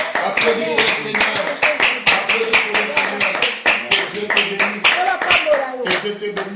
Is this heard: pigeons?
no